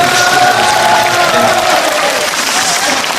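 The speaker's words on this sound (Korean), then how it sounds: "여러분 박수 한번 부탁드립니다" A concert audience applauds loudly and without a break, the clapping mixed with a low murmur of crowd voices and scattered cheers.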